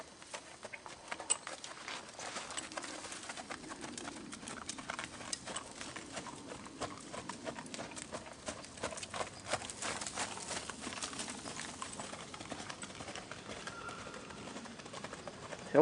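Horse hooves clip-clopping at a counter canter during a riding lesson, a steady soft rhythmic patter carried over a constant outdoor wash, with bird calls scattered in the background.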